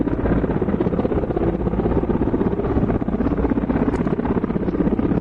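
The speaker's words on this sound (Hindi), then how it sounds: "हेलीकॉप्टर इस वक्त आप देख रहे हैं आपके टेलीविजन स्क्रीन पर। Apache, attack helicopter, MI helicopter." Military helicopters, Apache attack and Mi types, flying during an army joint exercise in Leh, with a loud continuous rotor and engine roar that stays steady throughout with no one speaking.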